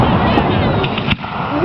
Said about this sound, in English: I'm one firework with like 80 explosions